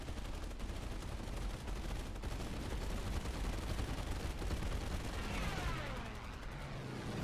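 Steady, dense gunfire in the War Thunder combat game, a continuous wash of rounds and rumble holding at constant loudness throughout, with a rising whine near the end.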